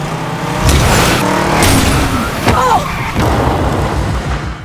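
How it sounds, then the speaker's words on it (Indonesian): A car speeds off during a tense film chase, its engine surging loudly with a rushing, booming roar that stays strong for several seconds. "Kemudian Jim menyuruh Grace tancap gas dan gak usah melihat ke belakang."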